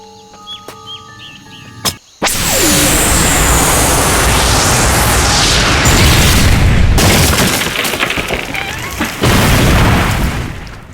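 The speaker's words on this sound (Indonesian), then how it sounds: "Dia mencoba meledakkan pohon itu dengan bom milik Kosuke, tetapi tidak berhasil." A bomb goes off in a film scene after a few sharp clicks and a brief pause, then a loud, sudden, close blast with a long rumbling roar that keeps going for several seconds.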